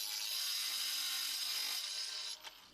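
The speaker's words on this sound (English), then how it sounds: "The rounded parts are not easy to grind here." An angle grinder works the rounded edges of bathroom tiles, giving a steady, close, high-pitched abrasive whine that holds for about two seconds and then cuts off, leaving a short scrape.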